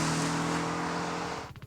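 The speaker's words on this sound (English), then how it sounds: "dial up the extreme exhaust noises from the 718's available sport exhaust and trust us, the overrun noises will make up the difference" Engine and sport exhaust of a 2017 Porsche 718 Boxster or Cayman roar steadily and loudly, then ease off into crackling overrun pops near the end.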